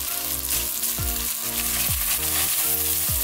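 Shredded pork being stir-fried in a pan over medium-high heat for a Chinese dish: a steady, loud sizzle broken by a quick scraping toss of the spatula about once a second.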